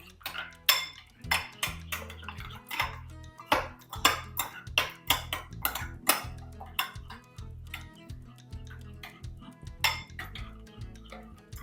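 A utensil clinks and scrapes rhythmically against a pan as chili powder is mixed into tomato rice, a close run of metallic taps at a steady pace with a soft musical bed underneath.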